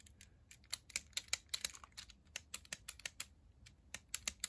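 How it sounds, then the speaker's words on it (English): A LEGO adjustable torque wrench head clicks as it tightens on its pivot, giving a quick, irregular series of light plastic ticks heard up close with no talking. "So the head clicks like a torque wrench."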